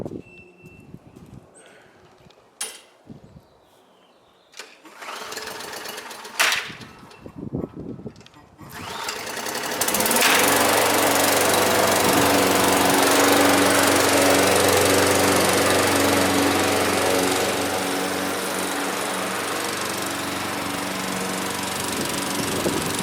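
A Murray walk-behind lawn mower with a Briggs & Stratton engine, model MP21450HW, set at the third cutting height, starts after some faint handling noises and then runs at a loud, steady drone while mowing.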